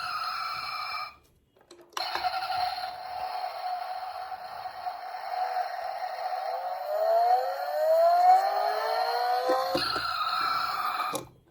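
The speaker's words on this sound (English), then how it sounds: "it's got this party trick where it's got light and sound" Siren from the light and sound feature of a 1/18 Land Rover Defender diecast model, a thin electronic wail that starts, pauses briefly, then runs steadily with rising sweeps before cutting off, close and fairly loud with no talk.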